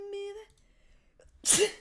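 A person sneezes once, sharp and close, near the end, after a brief stretch of sung voice and quiet.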